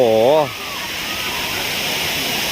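Sai Yok Noi waterfall in Kanchanaburi, a steady broad rushing roar of falling water heard nearby, with a brief voice at the start.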